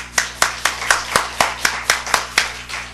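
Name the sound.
congregation clapping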